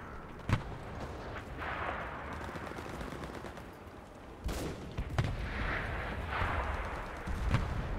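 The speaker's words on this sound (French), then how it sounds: "Je vois des balles tirer, mais je vois pas d'ennemis." Gunfire and artillery in a Stalingrad battle video game: sharp cracks stand out at moments over a continuous rumble of distant firing and booms, loud throughout with no talk.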